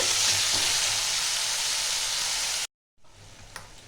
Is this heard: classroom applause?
no